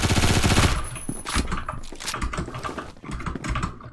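MP5K submachine gun fires in a video game: a loud rapid burst at the start, then scattered sharp clicks and shorter bursts.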